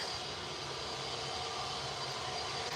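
An EasyJet Airbus A320 airliner at Manchester Airport gives a steady, broad engine roar that holds evenly throughout, fairly loud and unbroken.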